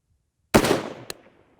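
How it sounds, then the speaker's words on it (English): A CMMG Endeavor 6.5 Creedmoor rifle fires a single loud, sharp shot with a decaying roar, followed about half a second later by a brief, crisp ring from the round striking a 10-inch square steel plate far downrange. "I was able to hit 3 in a row on that 10-inch by 10-inch piece of steel with this rifle"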